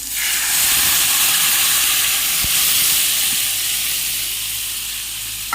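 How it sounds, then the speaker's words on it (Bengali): Curry gravy poured into hot oil tempered with spices and fried onion gives off a loud, steady steamy hiss and sizzle that slowly fades, heard close up with no talk. "এরপর আমি ফোড়নটার মধ্যে ঝোলটা ছেড়ে দেব।"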